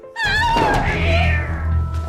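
A cat gives one loud, close, drawn-out meow that rises and then trails off, heard clearly on its own in a Korean TV drama scene.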